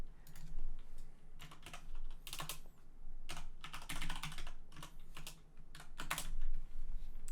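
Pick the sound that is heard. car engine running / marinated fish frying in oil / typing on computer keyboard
typing on computer keyboard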